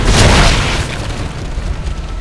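An enemy blows up in the sci-fi horror video game Dead Space, a single loud, deep boom that hits at once and then rolls off into a long rumbling tail with no talk over it.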